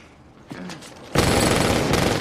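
Gunfire in a film action scene where a man is surrounded and shot: a dense, loud burst of rapid shots erupts and sustains after a short rumble.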